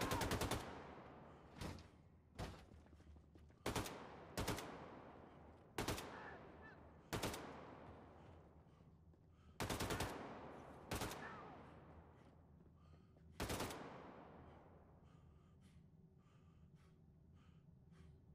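Gunfire in the video game Wolfenstein II: The Freedom Chronicles, about nine sharp shots spaced irregularly over the span, each loud crack trailing off in a long ringing decay above a low background hum.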